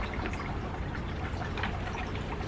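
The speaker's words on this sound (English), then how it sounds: "I'm going to add some water to this." Water poured into a coco coir potting mixture for planting, a soft continuous splashing and trickling that stays even and close throughout, with no talk.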